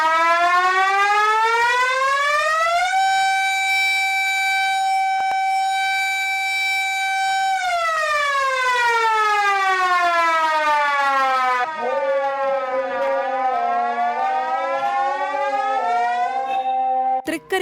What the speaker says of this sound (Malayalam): തൃക്കരിപ്പൂർ ടൗൺ ജുമാ മസ്ജിദിൽ നിന്നാണ് ഈ സൈറൺ.